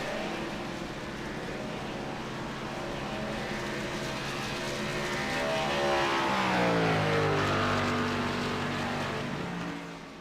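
NASCAR stock cars in the iRacing simulator at the Brickyard 400 rush past with a steady engine drone that swells and Doppler-bends as a car sweeps by around the midpoint, then fades slightly, with no talk.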